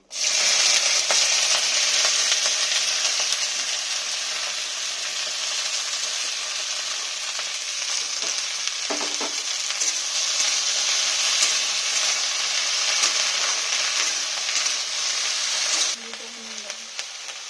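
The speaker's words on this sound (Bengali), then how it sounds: "এর এখানে আমি কেটে রাখা ঢেঁড়সগুলো ভেজে নেব।" Chopped okra frying in hot oil, a loud, steady broadband sizzle that holds evenly for about sixteen seconds, with a few faint clinks of stirring, then drops off sharply.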